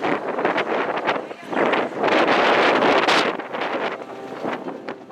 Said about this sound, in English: As you can hear, things are still pretty windy here.